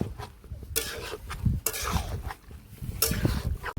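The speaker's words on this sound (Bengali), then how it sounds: "আদা রসুনের পেস্ট, সবকিছু আমি ভালোভাবে কষিয়ে নেব।" Ginger garlic paste and chilli powder are stirred and fried in a pan, with repeated scraping strokes of a spatula and soft sizzling, clattering at irregular intervals close up.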